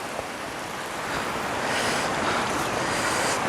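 Sandoa Waterfall in Bhimber, Azad Kashmir, pours over slippery rocks in a continuous broad rushing roar that swells slightly louder midway, close and steady, with no voices.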